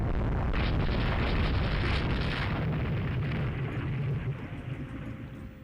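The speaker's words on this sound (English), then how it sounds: "One of their light cruisers was just hit by a torpedo." Torpedo striking a light cruiser in the naval game Rule the Waves 3: a heavy, sustained rumbling blast that swells, holds and then fades out near the end, with no voice over it.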